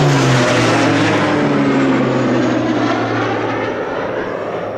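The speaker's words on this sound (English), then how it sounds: "look at this aeroplane's coming" A loud propeller plane drones overhead on the Kentmere Horseshoe hills, its engine pitch sliding lower as it passes and slowly fades away.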